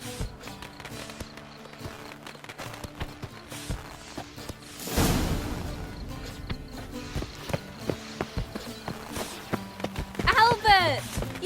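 Horse hooves clip-clopping in The Witcher 3: Wild Hunt on PlayStation 5, a run of hoof taps over game ambience with a brief whoosh midway and voices talking in places.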